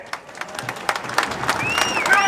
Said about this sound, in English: big round of applause for Jeff.